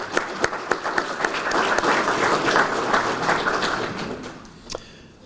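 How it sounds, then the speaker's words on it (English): An audience applauds high school color guards after their rifle manual of arms at an elected officials luncheon, starting with scattered claps that swell into steady clapping before thinning out to a few last claps. "So can we give them a round of applause?"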